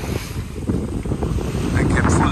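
Wind buffeting a sailboat at sea near Madeira, a loud blustery rush with wave wash beneath, briefly and close to the microphone.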